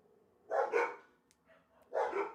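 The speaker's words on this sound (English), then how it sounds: "There's a dog across the hall." A dog across the hall barks twice in short, muffled bursts. The barks are faint and distant in an otherwise quiet room, with no talking.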